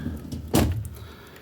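A drawer of a CD storage cabinet slides once with a short rolling thud near the middle, close and moderately loud against a quiet room.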